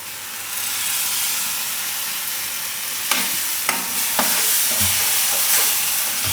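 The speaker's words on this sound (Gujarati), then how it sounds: "હવે એમાં આપણે નાખી દઈશું આ ટમેટાની પ્યુરી" Tomato puree hits hot oil and spiced masala in a pan, bursting into a loud steady sizzle, with a few sharp stirring scrapes partway through.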